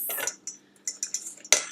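Whisk or spoon clinking against a bowl while egg yolks and sugar are stirred over a double boiler for sabayon, a few light scattered taps and scrapes with a sharper clink near the end.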